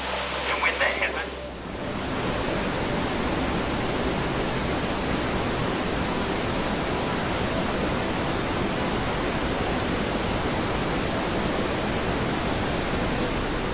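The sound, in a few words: roaring Stirling Falls waterfall in Milford Sound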